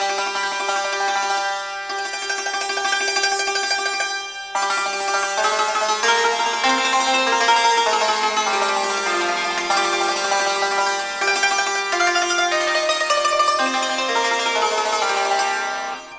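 Santur played steadily with notes doubled in higher and lower octaves, a dense, bright, shimmering stream of struck metal strings ringing continuously at close range, with only brief breaks and no talk.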